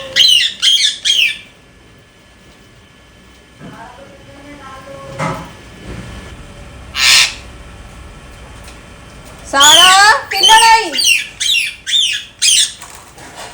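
A pet parrot squawks and whistles in loud, close, shrill bursts, first briefly at the start and then in a rapid run of harsh calls near the end, with someone talking in Hindi between them.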